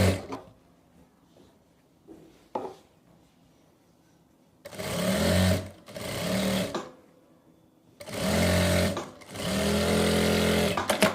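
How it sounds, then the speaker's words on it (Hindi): An electric sewing machine stitches a narrow salwar, running in loud, close whirring bursts of a second or more, separated by quiet pauses and faint handling clicks. "अब हम दूसरी तरफ सिलाई लगाएंगे।"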